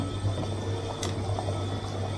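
Rice boils in a pot with a continuous low bubbling and a steady background hum, with one short clink near the middle.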